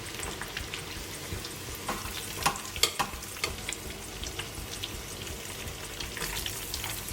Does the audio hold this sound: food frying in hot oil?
yes